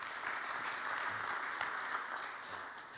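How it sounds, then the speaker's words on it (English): Steady audience applause at a poultry industry seminar, many hands clapping evenly for a few seconds. "Your applause for Maarten."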